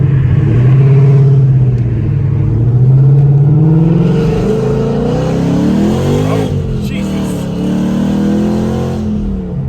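A Ford S550 Mustang, freshly tuned on a dyno with an SCT tune, accelerates hard and loud, its engine note climbing steadily in pitch with a brief dip and surge midway before carrying on strongly.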